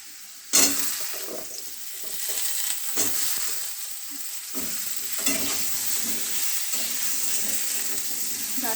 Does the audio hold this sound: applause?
no